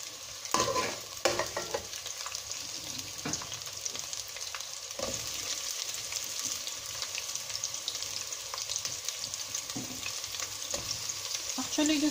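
Squash stirred into a frying pan with onion for crab cooked in coconut milk, giving a steady broadband sizzle with a few louder scrapes and stirring knocks, close and continuous with no talk.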